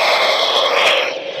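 A voice imitates an explosion from 1980s and 1990s cartoons with a short, loud, breathy burst of noise that holds steady and then tapers off.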